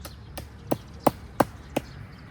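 A hammer strikes four times in a quick, evenly spaced series of sharp knocks, close by, with no talking.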